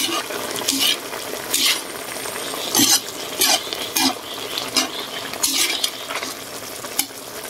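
Chicken pinakbet with chicken liver and gizzard stirred in a frying pan, a utensil scraping and clinking against the metal in repeated strokes over a steady close sizzle.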